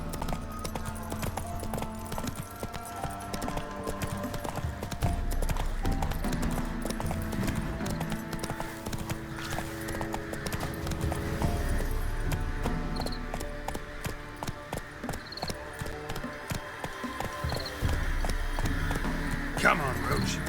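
Roach, a horse in The Witcher 3, trots with steady rhythmic clip-clopping hooves throughout, loud and close over a game soundscape with background music, and a voice calls out to the horse at points.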